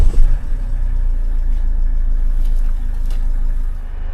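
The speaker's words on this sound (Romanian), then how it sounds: "Mă duc să pornesc mașina" An Opel Vivaro van engine starts with a brief rough burst, then settles into a steady, close, low idle rumble that runs to the end with no talk.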